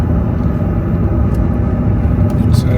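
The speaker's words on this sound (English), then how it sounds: "You can hear noise, that's because I've got the window open at the moment." Road and wind noise roaring through an open window of a moving 4.4 SDV8 Range Rover, a steady loud low rumble of tyres and air filling the cabin without a break.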